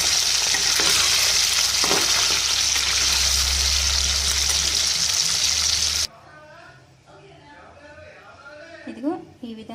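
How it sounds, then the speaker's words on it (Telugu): Mutton pieces deep frying in hot oil give a loud, dense, steady sizzle with a low rumble for about six seconds, then cut off abruptly to quiet, with speech heard afterward. "ఇదిగో ఈ విధంగా డీప్ ఫ్రై చేసుకోవాలండి."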